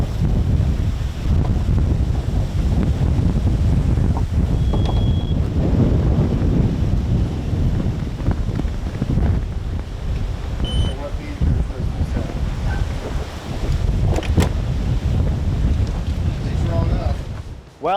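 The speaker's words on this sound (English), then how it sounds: "It's windier now than it was 3 hours ago when I came here." Strong wind buffeting a microphone aboard a 28-foot Freeman boat on the water, a loud continuous roar and rumble that persists throughout, with faint talk now and then under it.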